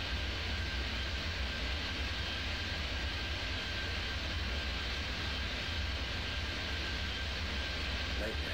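A steady, loud aircraft engine roar holds without a break as a plane goes around in Airport Madness 3D.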